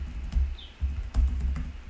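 Fingers type a password on a computer keyboard in short bursts of clicking keystrokes with brief pauses, close and moderately loud, with no talking.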